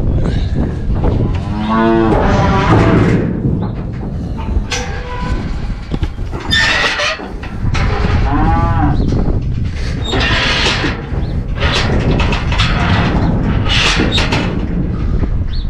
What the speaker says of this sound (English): then we gotta get our cows